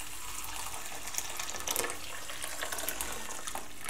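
Hot water poured from a tap over rice and noodles in a dish, a steady close splashing rush that swells slightly midway, with no talk.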